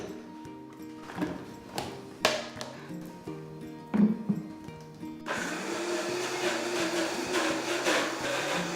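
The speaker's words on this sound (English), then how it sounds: "And the blender" A kitchen blender whirs through hummus with lemon juice, starting in uneven, chopping pulses and then settling into a steady, loud, continuous roar that runs to the end.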